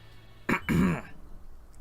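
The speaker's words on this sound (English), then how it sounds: "I have to clear my throat a few times" A person clears their throat in two short, forceful rasping bursts close to the microphone, followed by quiet.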